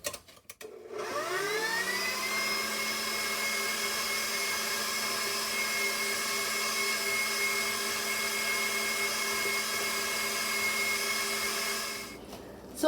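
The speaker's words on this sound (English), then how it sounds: "So I've whipped the sugar into the butter slowly, and for a good 1 or 2 minutes" Electric mixer whipping sugar into butter for cookie dough, a steady loud motor whine that spins up quickly and runs continuously for about eleven seconds before winding down, with no talking.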